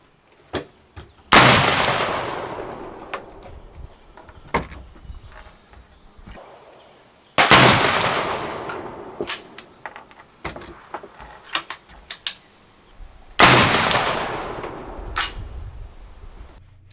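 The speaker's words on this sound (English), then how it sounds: "the British military bullets shot the best group, though not tremendously the best" A Whitworth rifle fires British military bullets: three loud shots about six seconds apart, each with a booming, decaying tail. Softer mechanical clicks and handling noises fall between the shots, with no talking.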